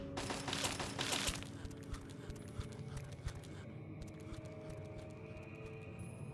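Automated turrets fire rapid bursts at ghouls in Fallout 3, a dense clatter of mechanical gunfire that swells loud early on and then carries on at a steadier, moderate level.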